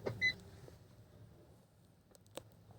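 One short, high electronic beep from a Maruti Vitara Brezza remote key alarm, close and clear, followed by faint clicks.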